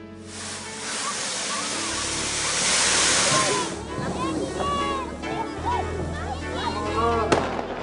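Fireworks crackle and pop on the sandy bank of the Chandrabhaga river at Pandharpur during a Diwali lamp festival, a dense continuous hiss with scattered whistles and bangs, while a voice speaks over it.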